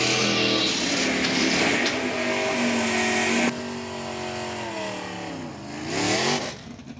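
A factory stock drag racing car runs down the strip at a dragway, its engine roaring loud and close before dropping to a falling, whining drone that swells briefly again as it passes.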